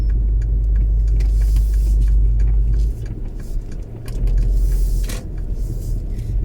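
A car pulls out of a condominium in Bang Na, a loud, close engine rumble with low drone and light creaks as it drives.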